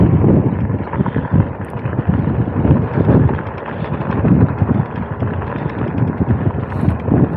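Strong wind buffeting the microphone during a Himiway e-bike ride up Badger Mountain in the east Washington desert, loud continuous low rumbling gusts that rise and fall throughout without pause.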